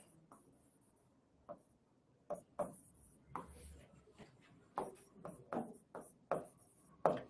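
Chalk or marker strokes on a board during a Class 6 math lesson on place value, a series of sharp, separate taps and scrapes at an uneven rhythm, close and fairly quiet, with no talking.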